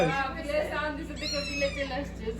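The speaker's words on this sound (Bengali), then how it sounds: "কিরে বিড়ালে সাউন্ড করছো" A cat meows in a few close, drawn-out cries with rising and falling pitch, running together over about two seconds.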